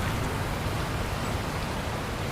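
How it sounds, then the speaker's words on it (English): Heavy rain pours in a dense, steady roar with no breaks, loud and close, filling the whole stretch without any voices. "The rain roared."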